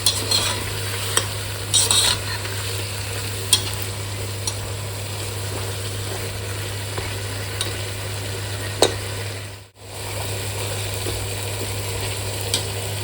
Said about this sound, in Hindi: 10 मिनट हम इसकी भुनाई कर लेंगे।